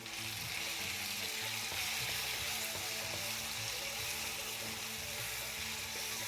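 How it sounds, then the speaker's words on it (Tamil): Tomatoes and onions sautéing in oil for Jaffna-style prawn curry, producing a dense, steady close sizzle and crackle throughout with little variation and no talking. "தக்காளி பழத்தும் நாங்கள் சேர்த்து வதங்க விடுவேன்"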